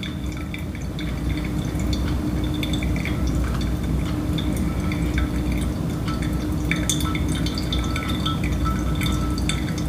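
Water poured over ground Ethiopian Yuzu coffee in a V60 brewer, a steady close trickling and dripping stream that runs continuously at even loudness, with no talk.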